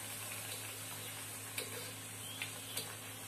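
Puris for besan ladoo frying in hot oil, a soft continuous sizzle with a few sharp crackles and ticks, heard close up and fairly quiet.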